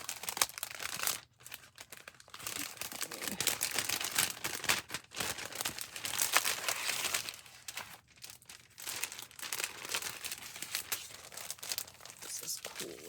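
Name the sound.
opening a crinkly plastic envelope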